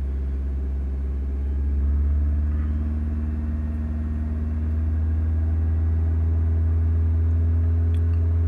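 A Suzuki SX4 engine held at about 2000 RPM gives a steady low hum with a slight swell partway through, continuous and fairly close, with no talk over it.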